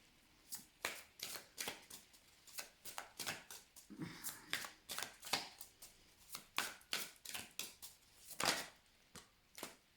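A deck of tarot cards is shuffled by hand in a quick, steady run of crisp riffling slaps, close and clear for the whole stretch, with no talking.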